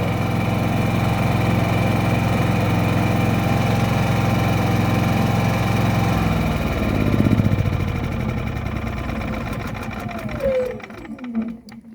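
Senci SC9000i inverter generator running on its first start, a steady close engine hum with faint mechanical whine, then revving briefly and winding down toward stopping near the end, with quiet speech in the background.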